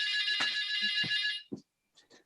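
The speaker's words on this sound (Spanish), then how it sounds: "Disculpad un momento, pero voy a descolgar ese teléfono" A telephone rings with a bright electronic trill, loud and close, cutting off abruptly, followed by a few faint fragments.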